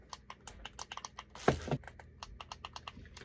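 The R3 and L3 stick buttons on a PS2 wireless controller are clicked rapidly, a string of small, close, sharp plastic clicks with a slightly louder rattling burst in the middle.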